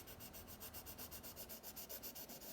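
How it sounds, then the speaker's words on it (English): A soft 6B graphite pencil shades a cast shadow on paper in quick, even back-and-forth strokes, a close, faint rhythmic scratching repeated about a dozen times. "I'm going to throw a cast shadow on here. Again, I'm going to jump back to a pretty heavy pencil. This is a 6B."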